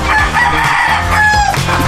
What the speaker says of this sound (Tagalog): dito po mga binibreeding namin mga manok